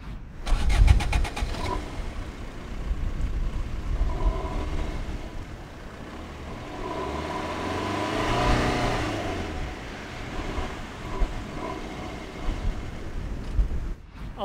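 Fiat Punto Evo 110 hp diesel after a software tune: after a rapid cranking start, the engine settles into a steady running drone, then revs up and eases back down, with a few sharp pops near the end.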